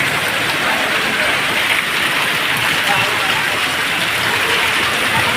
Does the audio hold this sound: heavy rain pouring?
yes